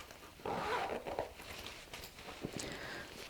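A quiet zip pocket on a denim pouch is opened with a short raspy pull near the start, then faint handling rustles and light taps follow.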